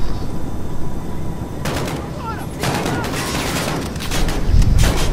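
Bursts of gunfire in the Call of Duty Modern Warfare game on Xbox One, several rapid volleys that come and go across the moment, fairly loud, with a heavy boom near the end.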